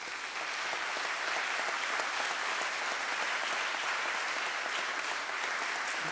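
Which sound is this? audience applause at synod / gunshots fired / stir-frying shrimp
audience applause at synod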